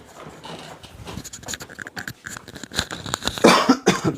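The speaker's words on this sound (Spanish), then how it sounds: "Ay, perdón, tragué mal." Coughing fits from a woman who swallowed wrong, harsh and irregular bursts close to the mic, growing louder and denser toward the end, with throat-clearing and ragged breaths between.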